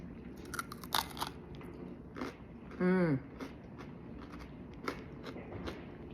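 A few crisp crunches of granola being bitten close to the mic, then a brief voiced sound in the middle and quieter crackly chewing afterward.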